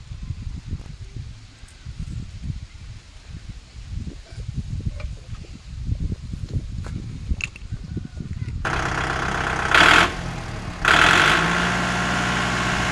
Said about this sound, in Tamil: ஆயில் ஊற்றி வச்சு ஸ்டார்ட் பண்ணி பார்க்குறாங்க